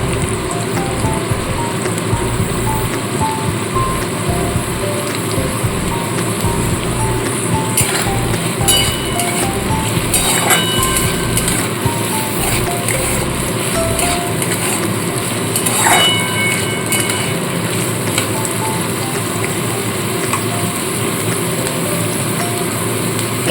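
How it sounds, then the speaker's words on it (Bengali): Chopped onions frying in hot oil for a hotel-style chicken tarka, a steady close crackling sizzle with scattered clinks of a utensil against the pan and no voices. "প্রথমে আমি দিয়ে দিচ্ছি কুচিয়ে রাখা পেঁয়াজ পেঁয়াজটাকে হালকা করে ভেজে নেবো"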